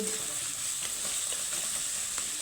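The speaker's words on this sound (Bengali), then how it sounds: "ধনে গুঁড়োর সাথে মশলাটাকে ভালোভাবে একটু কষিয়ে নেব" Spices mixed with coriander powder fry in a pan for a vegetarian flat-bean (sim) dish, making a steady, close sizzle with a few soft stirring scrapes.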